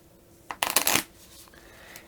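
Action card deck from the SOS Titanic board game (2022 revised edition) being riffle-shuffled close up, a single crisp burst of fluttering cards lasting about half a second, with quiet room tone before and after.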